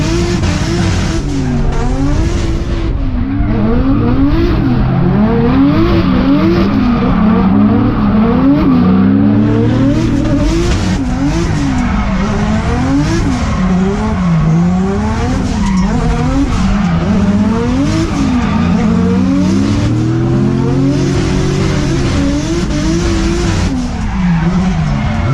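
A drift car slides continuously, its tires squealing in long wavering howls over a loud, steadily revving engine, close and sustained throughout with no talking.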